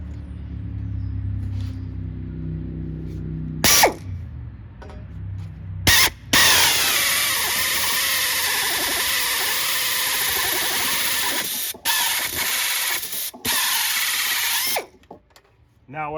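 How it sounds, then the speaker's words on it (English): Metal on a Sinistar arcade control panel being drilled: after a low idle, a power drill bites in with loud, sustained grinding and whine, stopping and restarting in several bursts before trailing off. "Now what I find is if you drill halfway through, flip it over and drill the other half."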